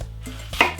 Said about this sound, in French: Et là, on les coupe en deux et en deux pour faire des quarts.